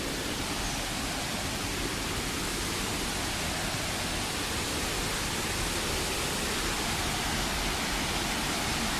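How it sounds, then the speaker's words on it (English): A waterfall in Java roars as a loud, close, constant wash of dense white-noise-like rushing water, unchanging throughout and without voices. "This is like the coolest waterfall ever."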